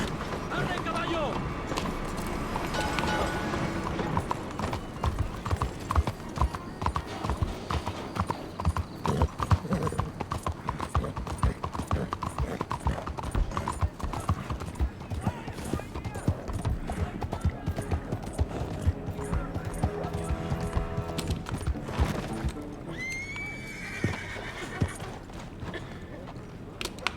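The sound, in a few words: horse galloping in Red Dead Redemption II video game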